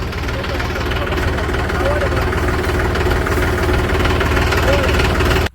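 A tractor engine runs near a field with drip irrigation lines, giving a close, steady droning rumble that barely changes before it cuts off abruptly at the very end.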